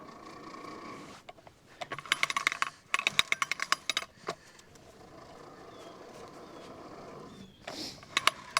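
Thin electric fence wire being wound onto a reel at a homestead pig pen, heard as bursts of clicking, ticking and rattling that come and go in spurts between quieter stretches, close by with no talking.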